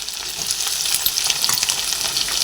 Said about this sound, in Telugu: ఇప్పుడు ఆ రెండు ఫ్రై అయినాయి కదా, ఉల్లిపాయలు కూడా వేసుకుందాం.